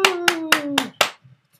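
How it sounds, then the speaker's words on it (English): Hands clap five times in quick, evenly spaced succession over about a second, crisp and close, with a faint ringing tone beneath and nothing after. "And then clap for joy."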